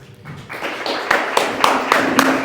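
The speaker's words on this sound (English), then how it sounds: "Please give a round of applause for Simon presenting the application layer for the Interchain." An audience applauds a speaker at a tech conference talk, a dense wash of many hands building quickly and holding steady, with a few sharper nearby claps standing out.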